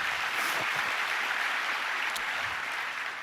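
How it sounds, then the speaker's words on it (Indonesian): A church congregation claps during a sermon, a diffuse, steady wash of applause with few distinct individual claps, running briefly at moderate volume. "Berikan tepuk tangan kita untuk Tuhan kita."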